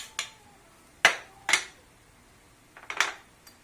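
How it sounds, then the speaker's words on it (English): Salt being mixed into flour in a bowl, a few sharp separate clinks and taps of a utensil against the bowl, with quiet gaps between them. "we're going to mix in our salt into the flour"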